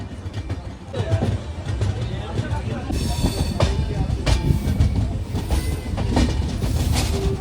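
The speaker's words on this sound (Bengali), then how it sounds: "আমরা এখন এই হলদিয়া লাইন থেকে মিশে যাচ্ছি এই খড়গপুর লাইনের সাথে" The Tamralipta Express runs on the Howrah–Kharagpur main line, joining it from the Haldia line. A steady loud rumble carries rhythmic clickety-clack from the wheels and occasional brief squeals.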